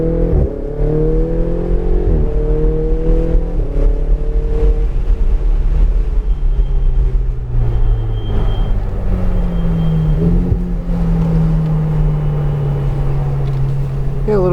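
A race car on a track accelerates with its engine revving, pitch climbing and falling in long sweeps; the roar stays loud and close throughout, with a steady low rumble beneath.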